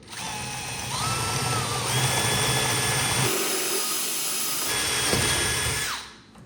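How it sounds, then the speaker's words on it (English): A power drill fitted with a 7/32 inch bit bores through a plastic MAAX Cyrene shower wall panel, its close, steady whine holding for about six seconds with slight shifts in pitch before winding down. "next I'll use a 7/32 inch bit"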